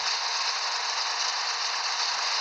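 In Farming Simulator 14, a tractor engine runs at a steady pitch, a continuous, even hum with a faint rattle, moderately quiet and unbroken.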